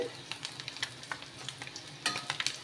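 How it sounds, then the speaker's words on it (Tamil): Eggs fry in a pan as an egg side dish, browning with a busy crackling sizzle that pops in irregular bursts and swells near the end, close and alone. "இந்த அளவுக்கு நல்லா மேலே ப்ரௌன் ஆகிற வரைக்கும் பொரித்து எடுத்துக்கோங்க"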